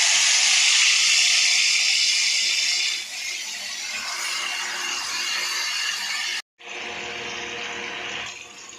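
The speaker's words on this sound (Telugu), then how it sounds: "ఈ చికెన్ తీసుకొని మనం వేడి అయిన నూనెలో అయితే వేసుకుందాము" Marinated chicken pieces dropped into hot oil for Iffa-style frying give a loud, steady bubbling hiss that dips briefly partway through, cuts out for a moment and then resumes close up.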